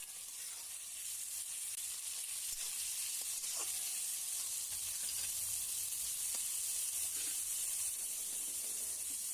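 Vegetables sautéing in a pan for rava kichadi, a faint continuous hiss of sizzling with occasional soft stirring scrapes, quiet and steady, no speech.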